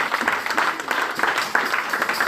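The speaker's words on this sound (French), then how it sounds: "Donc on acclame pour les pasteurs." A church congregation applauds its pastors with a burst of rhythmic clapping, moderately loud and sustained with uneven peaks throughout.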